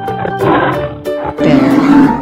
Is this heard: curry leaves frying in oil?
no